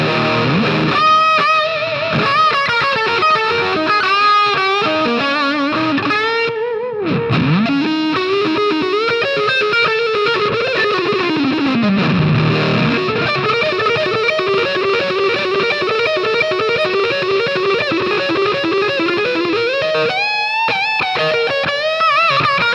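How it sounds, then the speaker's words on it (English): Electric guitar through a Chandler Limited Little Devil pedal, heavily distorted riffs and sustained bending notes played loud and up close for over twenty seconds, alone with no talking. "let's hear the little devil pedal"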